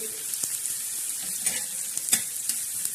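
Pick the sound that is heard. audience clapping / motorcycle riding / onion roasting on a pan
onion roasting on a pan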